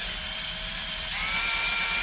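A power drill bores into stainless steel while fitting a glass railing clamp, giving a steady continuous whir close by that rises slightly in intensity partway through.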